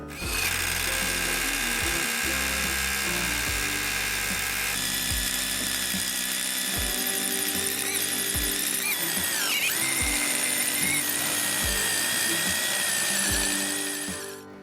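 A Vitals Professional ARa 1822 BS cordless SDS rotary hammer runs continuously with a loud, high whine and a grinding, buzzing texture, changing pitch slightly, close up and without talking.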